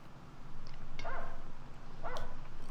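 A dog in a 1955 western film barks twice, two short, sharp yelps about a second apart over a low rumbling background.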